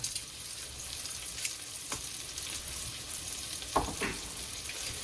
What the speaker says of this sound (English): I'm going to melt a little butter, about a tablespoon of butter, and I'm going to put in about a tablespoon of flour.